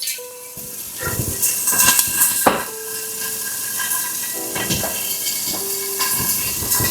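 Peppers for beef fajitas charring in a hot pan, a steady hissing sizzle with bursts of steam and occasional stirring clatter, close and fairly loud throughout.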